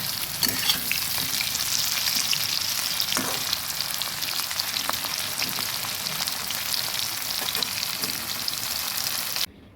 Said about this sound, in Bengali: খুব একটা কড়া করে ভাজবো না ঠিকই কিন্তু আর একটু ভাজবো